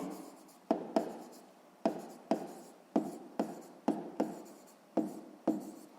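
Chalk or pen writing an equation by hand for a sixth-grade maths exercise, heard as a series of sharp tapping strokes with scratchy trails, about a dozen spaced irregularly, close and clear with no talk.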